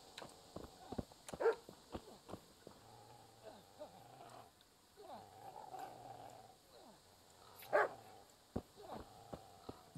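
A dog barks in several sharp bursts mixed with rough growling in the village of Skalitz in Kingdom Come: Deliverance, alongside clopping hooves and other game sounds at moderate volume.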